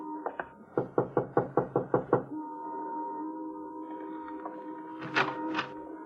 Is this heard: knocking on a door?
yes